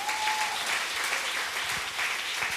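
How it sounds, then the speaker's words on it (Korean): A Sunday worship congregation claps for the Lord in a lively, unbroken burst of applause, dense and fairly loud from start to finish with no speech over it. "우리 주님께 영광의 박수 올리겠습니다."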